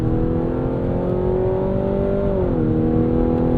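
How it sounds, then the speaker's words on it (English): Four-cylinder engine of a Mazda CX-90 plug-in hybrid accelerating, a steady loud drone from inside the cabin with engine tone rising gently and then dipping slightly, with no talk over it. "It's not the worst sound in the world from this 4-cylinder, even though it's piped in."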